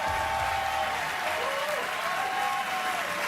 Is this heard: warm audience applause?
yes